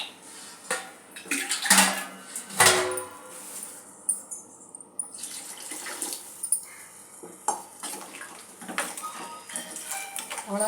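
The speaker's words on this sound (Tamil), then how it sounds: "இப்போ தேவையான அளவு தண்ணி சேர்த்துக்கலாம்." Water is poured into a pan of fish kulambu, splashing unevenly alongside clattering pan and utensil knocks at close range.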